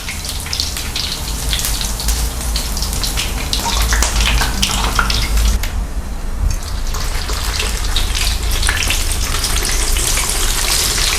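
Squid frying in hot oil, a loud, continuous, dense sizzle with constant crackling spatter that dips briefly midway and then surges again, heard close up with no voices.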